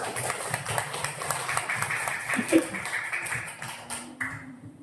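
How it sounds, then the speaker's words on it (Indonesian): A classroom of young students claps together in a short, faint burst of scattered applause, with a lot of room noise and some low chatter mixed in. "tepuk tangan untuk kelas semua"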